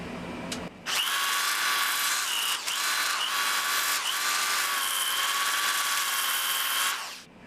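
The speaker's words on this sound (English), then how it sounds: "I'm gonna go with this my favorite tool, the DeWalt sander" A DeWalt power sander shapes a wooden hatchet handle, running loud and steady for about six seconds with two brief dips in pitch and level before cutting out.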